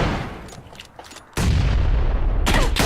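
A grenade blows up in the video game PUBG, one sudden loud blast that cuts in after quieter gunfire and lingers as a rumbling roar, with another sharp crack near the end.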